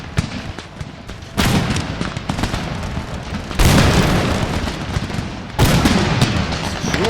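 Musket volleys in Empire: Total War, three successive massed crackling bursts of gunfire, each loud and sustained, over a continuous battlefield din.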